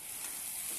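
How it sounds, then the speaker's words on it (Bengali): Potatoes fry in an uncovered pan alongside fish roe, giving a brief, continuous bright hiss of sizzling oil. The sizzle is close and even, with no voices. "এখন আমি এটাকে খোলাই ভাজবো কিছু সময়ের জন্য।"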